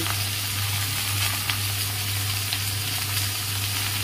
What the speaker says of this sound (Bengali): ভাজতে ভাজতে একটু নুন আর হলুদ দিয়ে দিলাম।